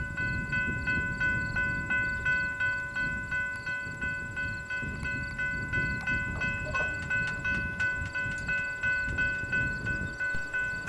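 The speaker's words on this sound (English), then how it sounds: "This train is NS 120, a daily manifest from Kansas City to Detroit with mostly automotive traffic in tow." A Norfolk Southern NS 120 manifest freight carrying mostly automotive traffic rolls past at close range, with a steady rhythmic clatter of wheels over rail joints and a sustained metallic ringing tone throughout.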